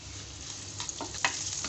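Three small sliced onions fry in two spoons of oil, making a quiet, even sizzle with faint crackles and a soft stir or two over a brief stretch.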